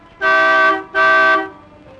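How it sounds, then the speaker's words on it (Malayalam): A car horn honks twice, two loud, evenly spaced toots of similar length close by, with a short gap between them and no talking. "ആ ഹോൺ നടിക്ക്"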